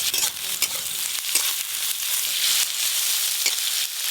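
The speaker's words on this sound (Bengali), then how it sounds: "সর্ষের তেল, পেঁয়াজ কুচি দিয়ে দেব।" Chopped onion frying in mustard oil in a pan, a loud, close, continuous sizzle with scraping stir strokes throughout and no talking.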